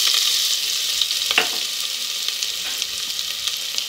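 Chopped onion frying in hot oil in a pressure cooker, a steady close sizzle with a brief stir around the middle, no talk.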